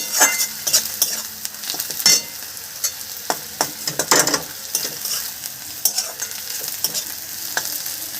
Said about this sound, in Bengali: পেঁয়াজটা অর্ধেক ভাজা ভাজা হয়ে এসছে